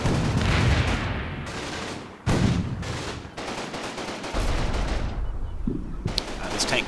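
A tank cooking off in the Combat Mission: Battle for Normandy video game, with loud, close bursts of explosive cracks and booming blasts that are broken by brief pauses, ending in a scatter of sharp pops.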